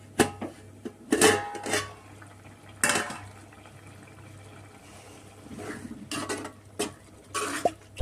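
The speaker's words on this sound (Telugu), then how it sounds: "తీసి ఒకసారి కలబెట్టుకున్నామండి" Bottle gourd curry being stirred in a pot, with a few sharp clinks and scrapes of the spoon against the metal and quiet bubbling between them, no voices.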